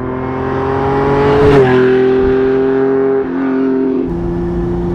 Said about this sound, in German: Also das ist so ein reinrassiger Sportwagen, ist ziemlich laut, kann ich euch sagen.